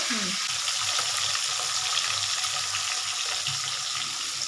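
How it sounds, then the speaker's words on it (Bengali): Tilapia fish frying in oil in a pan, a steady broadband sizzle that holds level and close throughout, with no talk over it. "বন্ধুরা আমরা এভাবে ভাজতে থাকি মাছগুলো"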